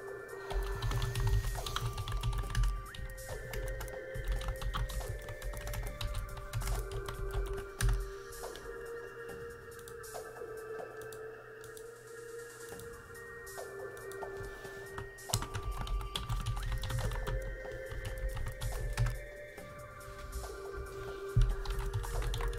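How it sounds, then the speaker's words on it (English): Computer keyboard keys click under loud, continuous game sound with tones and music during a Ready or Not session, the typing faint and mostly buried in the mix. "I hear a keyboard click"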